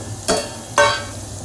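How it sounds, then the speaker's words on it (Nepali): Mutton frying with onions in a pan: two short sharp bursts of sizzling and stirring scrapes over a low steady crackle, close and moderately loud. "मासु हालेर एकछिन म भुट्छु यसलाई पटपट पटपट हुने तरिकाले"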